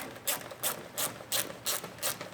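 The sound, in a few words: tightening mud flap mount with 4mm Allen key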